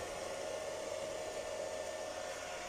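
Steady, even whir of a solar-powered pump and borehole drill motor running together at a site near Gaziantep, a constant hum with a faint tone over broadband hiss, unchanging throughout.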